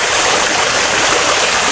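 A small river stream flows steadily close by, a dense, continuous rushing wash of water with no voices over it.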